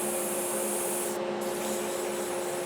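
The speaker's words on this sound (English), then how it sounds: "I will sand in the direction of the grain" Close, steady rubbing hiss of 220 grit sandpaper worked along a wooden pen blank turning on a lathe, with a constant motor hum beneath, no speech.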